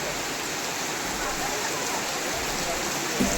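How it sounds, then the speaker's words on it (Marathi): Dense, constant hiss of heavy rain pours without pause, a broad steady wash of sound close by, at a home in Konkan. "पाऊस असा जोरात आला आहे"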